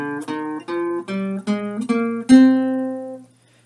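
A minor scale played on an instrument as a run of separate clear notes that climbs to a longer final note and fades, heard alone without speech.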